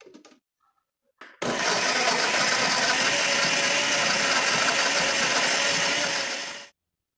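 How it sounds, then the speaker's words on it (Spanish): After a brief quiet moment, a blender whirs loudly and steadily for about five seconds, processing peach palm (chontaduro) pulp with milk into a sauce, then cuts off abruptly. "Colocamos la pulpa en la licuadora y agregamos media tacita de leche y procesamos hasta formar una salsa homogénea"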